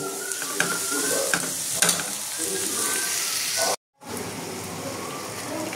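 Chicken pieces for a chicken roll filling stir-fried in oil until cooked through, a steady dense sizzle with scraping stir strokes throughout and a brief dropout near the end.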